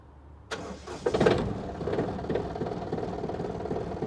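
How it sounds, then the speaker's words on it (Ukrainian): Yanmar AF220 diesel mini tractor starting, with a sharp crank that catches after a brief churn and settles into a steady, rough mid-pitched idle close by. "Трактор завівся з півоберту"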